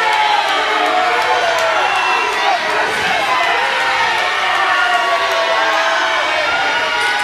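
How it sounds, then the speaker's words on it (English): Wrestling fans at an EMERGE Eruption live event roar and shout continuously throughout, a loud, dense crowd din with whoops and cheers filling the arena. "And this crowd is electric here tonight."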